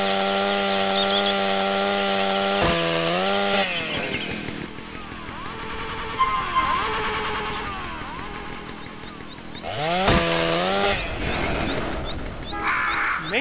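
Chainsaw in GTA San Andreas, loud idling drone broken by repeated sharp revving bursts and cutting sweeps, with rising whines near the end.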